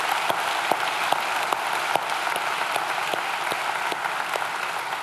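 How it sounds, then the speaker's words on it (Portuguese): A church congregation at an anniversary service claps to celebrate the resurrection of Christ, giving sustained applause with sharp individual claps standing out at an even pace, moderately loud throughout with no talk over it. "Vamos aplaudir esse dia maravilhoso que foi a ressurreição de Cristo?"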